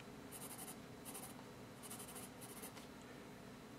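Amazon Basics HB pencil scratching across paper in four short bursts of strokes, a soft dry rasp, close and fairly quiet over faint room hiss, with no talking.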